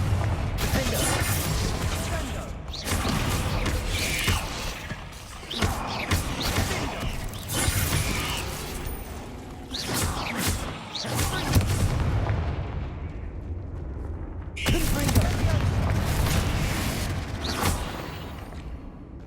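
Hogwarts Legacy combat with repeated loud fiery Confringo spell blasts, booming and crackling one after another with brief gaps, shattering debris in between, under dense game noise.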